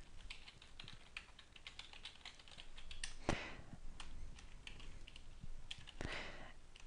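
Someone types a file path on a computer keyboard, producing a quick run of light, crisp key clicks with uneven rhythm and a few sharper taps, close by and fairly quiet.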